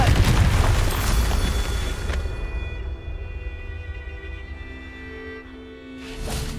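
A Confringo fire spell bursts in the game Hogwarts Legacy, a loud booming blast at the start that rumbles and fades over several seconds, followed by another burst rising near the end.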